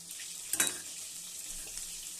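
Gobindobhog rice frying in oil with cumin and bay leaf, a soft, steady low sizzle with a brief louder stir or scrape in the middle, no voices.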